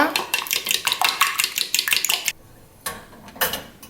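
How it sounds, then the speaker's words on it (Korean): Eggs with salt being whisked in a bowl, a quick run of rhythmic clinking strokes against the bowl, fairly close, then a brief pause and a few more strokes. "계란에 소금 넣고 풀어주세요"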